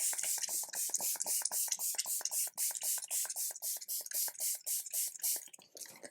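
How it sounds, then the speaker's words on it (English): Setting spray misted onto a face in a rapid series of short, even pumps, each a bright hissy burst, steady in rhythm and close to the mic, with no voice. "Let me go ahead and spray my face"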